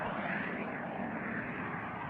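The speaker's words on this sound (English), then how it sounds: "Maybe just did a mil power takeoff." A military jet with an F414 engine roars through a takeoff at military power without afterburner, a loud, continuous broadband rumble sustained throughout.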